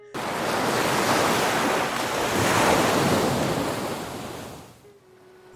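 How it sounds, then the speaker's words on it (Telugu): Sea waves at Visakhapatnam surge and crash in a loud, continuous roar with wind noise, easing briefly near the end before rising again. "అదే సముద్రం, అవే కెరటాలు ఉవ్వెత్తున ఎగిసిపడుతూ, పడినా లేస్తూ"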